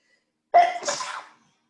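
A single loud, close sneeze, a sharp intake then a burst, alone in silence.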